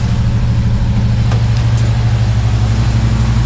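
A 1961 Pontiac Laurentian engine idles steadily and loudly after its first start in 30 years, a deep, even rumble with no talk over it.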